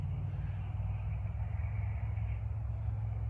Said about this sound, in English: you hear that car?